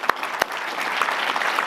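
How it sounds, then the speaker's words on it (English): Audience applause at a political conference, dense clapping from a room of people that starts with a couple of sharp claps and settles into steady moderate applause. "big round of applause for Turning Point in general"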